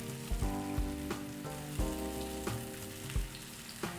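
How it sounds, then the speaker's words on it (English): A birria taco with cheese crisps in an oiled pan, giving a close, steady frying sizzle with soft crackles and a few low thumps of handling scattered through. "So I'm gonna let it kind of crisp up on one side and then I'll flip it over."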